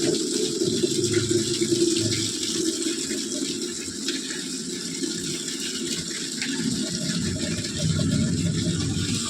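Water runs steadily from a tap onto a blanket being rinsed at home after soapy washing, a loud continuous splashing gush that fills the whole stretch without any voices.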